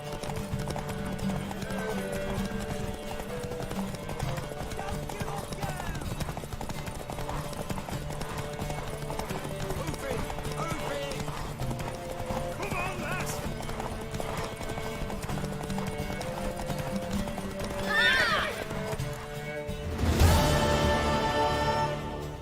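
A horse's hooves clip-clop steadily in The Witcher 3, with game music and scattered voices layered over them and a louder burst near the end that may be a whinny.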